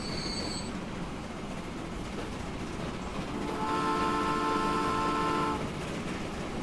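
Train rolling along the line in a railway tycoon video game, a steady rumble with faint wheel clatter that swells midway as tonal squeals and hums ride on top, then eases back.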